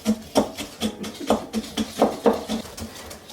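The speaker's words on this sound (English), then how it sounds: "I'm gonna use the extra large whisk" An extra large whisk beats chocolate batter in a bowl in a rhythmic run of clinking, scraping strokes, close and fairly loud, with no talking.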